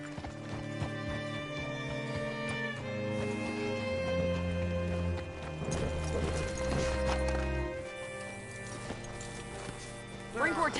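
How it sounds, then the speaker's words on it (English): Horse hooves clip-clop steadily in a video game, a rhythmic run of hoofbeats heard alongside game music and other layered background sounds. "Hitch your horse up here."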